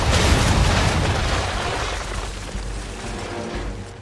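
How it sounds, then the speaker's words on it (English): Ship cannons in Assassin's Creed III fire a broadside: a loud cluster of booming blasts at the start, then rumbling echoes that slowly die away over several seconds. "when all guns are on target, call fire."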